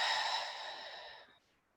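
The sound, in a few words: cleansing breath, in through nose, exhale through mouth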